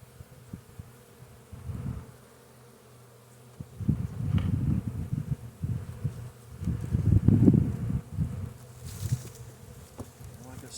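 Honey bees buzz in swelling, uneven bursts around an open hive during a March inspection, close to the microphone with faint rustling between the louder passes.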